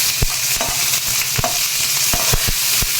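Crushed garlic, curry leaves and asafoetida sputter and sizzle in hot oil for a South Indian tempering, a steady hiss broken by sharp popping crackles and spoon scrapes, heard close up with no voices.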